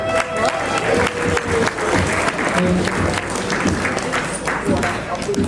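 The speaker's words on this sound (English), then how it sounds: "Applause, huh?" Wedding guests applaud together, a loud, dense wash of clapping with crowd murmur and occasional voices mixed in, sustained evenly from start to finish.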